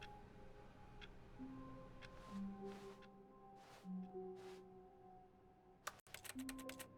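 Mouse clicks in The Stanley Parable video game come out as sharp keyboard-like taps, a few sparse clicks and then a rapid burst near the end, faint and close against a quiet background.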